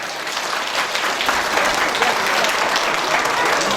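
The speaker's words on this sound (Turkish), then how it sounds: "Bir kez daha alkış istiyorum arkadaşlar." Loud, continuous crowd applause at a wedding celebration after a Turkish patriotic poem recital, dense clapping from many people holding steady throughout.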